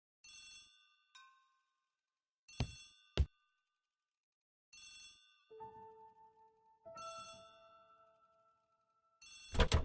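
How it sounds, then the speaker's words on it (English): An old-fashioned telephone bell rings in a hallway in The ABC Murders video game, sounding in several repeated bursts separated by pauses, with a low sustained tone and clanks between rings. "The telephone in the hall is ringing."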